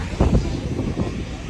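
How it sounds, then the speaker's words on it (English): Airplane at an airport, a steady low rumble of jet engine noise with wind buffeting the microphone and no talk. "The plane is here."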